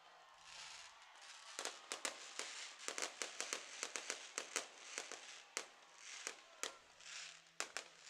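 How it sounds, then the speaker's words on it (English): Fireworks show after a baseball game, Elmira Pioneers vs Auburn Doubledays, with rapid irregular booms and sharp cracks going off in quick succession over a continuous distant crackling roar, heard from afar at moderate loudness. "the Pioneers celebrate the win with the fireworks show"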